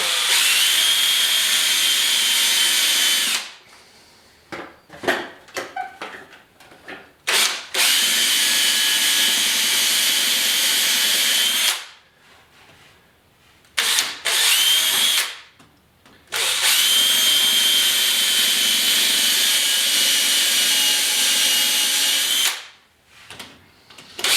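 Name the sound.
power drill driving drywall screws into plywood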